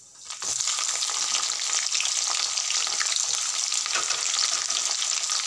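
Onion added to hot oil with mustard seeds and green chilli tempering in a kadai, bursting into a loud, steady sizzle that continues strongly without talk.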